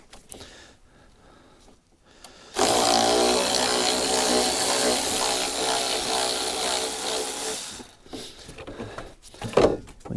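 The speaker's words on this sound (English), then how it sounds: "we're just going to use a little Torx bit to remove this side cover" A power driver with a Torx bit spins out the side cover screws from under the fender of a Bobcat 5600 Toolcat in the cold, a loud steady whir running about five seconds after a quiet start, then cutting off.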